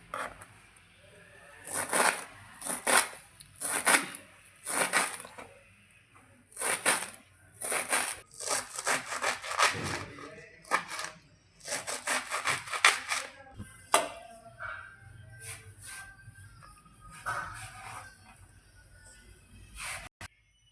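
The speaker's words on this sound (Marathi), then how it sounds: "चला तर आता आपण भाजी कट करून घेऊया बारीक बारीक" A knife finely chops dill leaves rapidly on a board in bursts of quick, crisp strokes, pausing briefly between rounds, with soft rustling of leaves.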